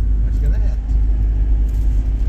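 Heavy truck loaded with iron drives along, a loud steady low engine rumble and road drone from inside the cab, with a voice speaking over it.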